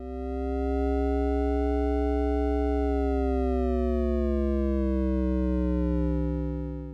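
A modular synthesizer oscillator produces a steady, rich tone with strong harmonics that glides slowly downward in pitch, heard alone and fading in and out smoothly.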